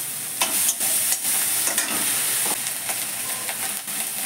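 Onion paste and ginger fry in a pan with a steady, close hiss of sizzling, broken by a few sharp scraping stirs, with no voices.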